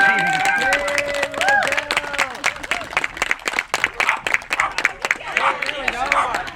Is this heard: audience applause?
yes